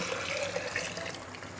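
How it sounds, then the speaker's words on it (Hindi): Cooled milk poured from a pot into a jug for a commercial doodh soda, a brief steady liquid stream splashing close by. "अब मैं जग लूँगी और ये सारा दूध इसमें डाल दूँगी।"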